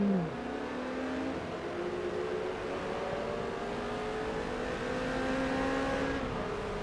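Engine of a 4-cylinder Chevy race car being passed in a racing video game, a steady whining drone that holds pitch and then drops slightly as it falls behind, continuous with no talk.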